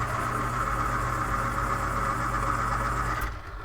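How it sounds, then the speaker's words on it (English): An electric pencil sharpener grinds a pencil in one steady, loud, continuous whir lasting about three seconds, then cuts off abruptly into a quieter tail. "excuse me, pencil sharpener."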